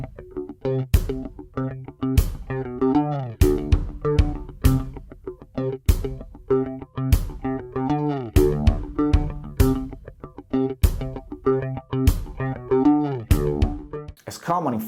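Funk bass guitar, a jazz bass played with a pick, runs through a phaser for a swishing, twangy tone, with punchy repeated notes and a sharp percussive click on the beat driving the groove.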